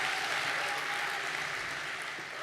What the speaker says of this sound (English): The metric system's getting applause, right on.